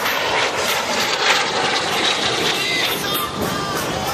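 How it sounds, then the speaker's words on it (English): An Aero L-39 Albatros jet passing along the show line at the Wings over Waukegan airshow, a steady loud broadband roar that swells slightly and holds throughout, with faint crowd and announcer noise beneath. "he's in that beautiful L-39"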